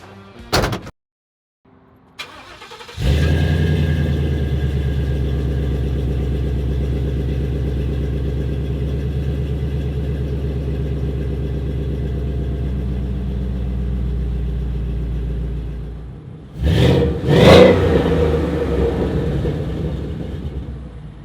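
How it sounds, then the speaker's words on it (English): A 1955 Ford truck powered by a Coyote 5.0 V8 starts after a few door and cabin clunks, then settles into a loud, steady droning run, with a brief swell of revving near the end. "we're gonna take this thing out for a little bit of a drive"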